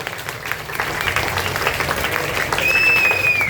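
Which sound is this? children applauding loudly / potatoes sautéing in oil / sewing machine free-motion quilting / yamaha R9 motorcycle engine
children applauding loudly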